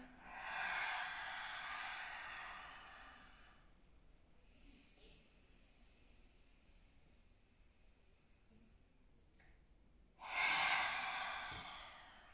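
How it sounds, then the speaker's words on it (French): Two forceful open-mouthed exhalations of yoga lion's breath during a calm flow, one near the start lasting about three seconds and another near the end, with quiet room tone between. "Respiration du lion si tu le désires."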